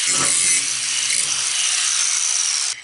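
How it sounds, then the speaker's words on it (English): A 4-inch angle grinder fitted with a grinding stone smooths welds on a steel shop vise stand, a loud steady high-pitched whine with a rough grinding edge that runs without pause and cuts off abruptly at the end. "I've got my grinding rock on my 4-inch grinder."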